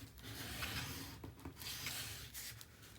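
Stiff cardstock, heavier than 65-pound, is rubbed and burnished by hand for a mini album, giving a continuous soft scraping friction with a few brighter swipes, close and moderately quiet.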